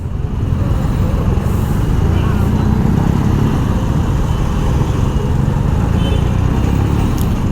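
Dense city traffic jam surrounds a rider on a BMW R nineT Scrambler, a continuous loud low rumble of idling and creeping engines, buses and bikes with wind buffeting and no breaks.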